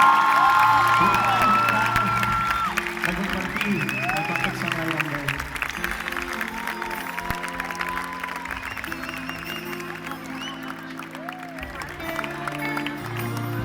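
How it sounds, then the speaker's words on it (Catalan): A concert crowd at the Cruïlla Primavera 2017 festival claps and cheers loudly, dense sustained applause with whoops that fades gradually while someone speaks and music plays over it. "us demanem que rebeu amb un fort aplaudiment"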